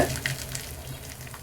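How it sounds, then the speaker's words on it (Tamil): Chopped onions sautéing in a pan for a dal gravy, producing a brief, moderately loud sizzle with light stirring. "அது நல்லா வதக்கி விட்டுறலாங்க"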